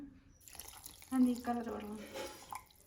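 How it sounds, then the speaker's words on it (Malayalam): Water splashes and gurgles as it is poured into a mixer jar, a steady trickling stream lasting a couple of seconds, close by. "ഇനി ഇതിലേക്ക് ഒരു ഗ്ലാസ് വെള്ളം ഒഴിക്കുകയാണ്."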